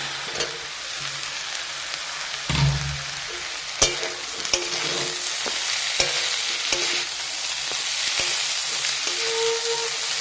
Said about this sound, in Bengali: একসাথে মিশিয়ে দিলাম